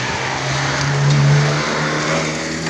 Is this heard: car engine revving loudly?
yes